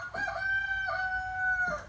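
A rooster at a farm with chickens crows once, a loud, close, drawn-out call lasting nearly two seconds, standing alone above faint background.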